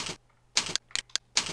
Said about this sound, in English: Let me click here again.